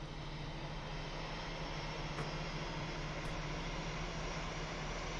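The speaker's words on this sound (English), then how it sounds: "Hear that engine." Steady, even drone of an aircraft engine in a flight simulator game on a night flight from the Bahamas to Key West, a constant broadband hum held at low level throughout with no voices.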